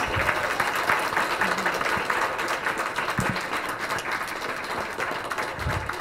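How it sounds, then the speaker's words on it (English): An audience at a school farm-to-school team presentation gives a big round of applause, a continuous dense wash of clapping from many hands, moderately loud and steady throughout. "let's first give them a big round of applause."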